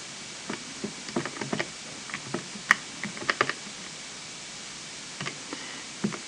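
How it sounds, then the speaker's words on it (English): Calculator buttons pressed during a maths exam walkthrough, a quiet scatter of light plastic clicks in quick irregular bursts with pauses between, faint and close against soft background hiss. "So I can now type that into my calculator."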